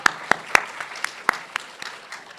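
An audience at a moot court finals competition gives scattered, uneven applause: a few sharp, close individual claps stand out amid light, thin clapping for about two seconds.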